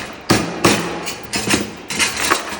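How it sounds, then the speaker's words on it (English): Metal chain hangers on a round adjustable gutter drop inlet filter being pressed down, making several loud knocking, clanking thumps over a steady background rumble, close by with no talk. "I'm gonna go ahead and press all of these chain hangers down slightly."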